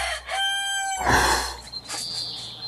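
A rooster crows once, loud and close, a rising drawn-out call followed by a few softer clucks and faint background sounds.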